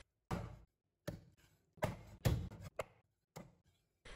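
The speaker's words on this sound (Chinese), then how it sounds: "再给它斩成大块" A cleaver hacks chicken into large chunks on a wooden board, giving a series of solid, uneven knocks, some single and some in quick pairs, close by with silence between strokes.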